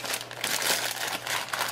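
A plastic bag crinkles and rustles continuously up close as homemade shea moisture soap cubes are packed into it, a brief, dense crackling with no talking.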